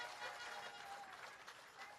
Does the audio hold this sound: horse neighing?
no